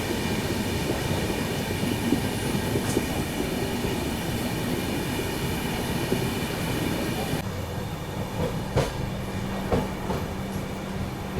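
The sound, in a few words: Paschim Express train running through Santacruz station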